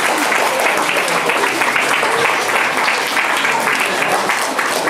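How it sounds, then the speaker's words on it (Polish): An audience at a literary contest award ceremony applauds a winner with loud, sustained clapping from many hands, steady and close throughout. "Aneta Kozłowska, wielkie brawa!"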